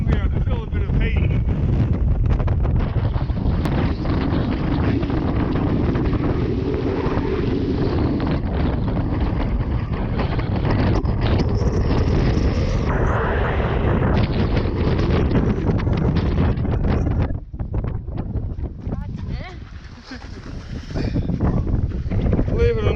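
Strong wind gusts near a volcanic crater roar constantly against the microphone, loud and close, dipping briefly before surging back, with a voice speaking partly under the rumble.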